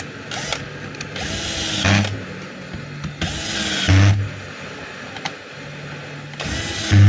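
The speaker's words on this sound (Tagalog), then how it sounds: "Tapos, syempre, higpitan na rin natin yung kanyang screw." Handle screw on a DeWalt D25033 rotary hammer being tightened, with repeated bursts of gritty ratcheting and scraping separated by short pauses, close and fairly loud.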